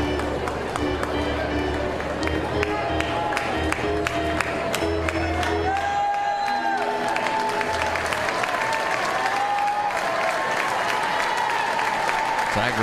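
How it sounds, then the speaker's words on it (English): An LSU Tiger baseball crowd cheers and roars during a tied game against Georgia, a sustained stadium din with rising shouts, heard alongside broadcast commentary and ballpark sound. "Tiger crowd trying to lift up Jacob Hasty here"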